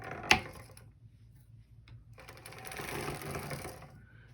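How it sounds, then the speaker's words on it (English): Sock knitting machine worked while a needle is raised: a sharp click, then a brief whir, a pause, and a steadier mechanical clatter of gears and latches that builds and carries on nearby. "Okay, so I'm going to raise the third needle."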